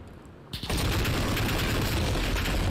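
Continuous sustained fire from a RAAL MG light machine gun in Call of Duty: Modern Warfare, a dense loud roar of rapid shots starting abruptly after a brief quiet lead-in and running unbroken to the end.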